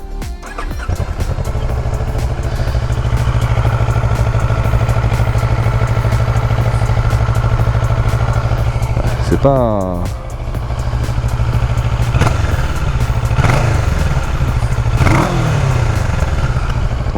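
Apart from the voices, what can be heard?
Kawasaki ER6N 2014 motorcycle engine running, restricted A2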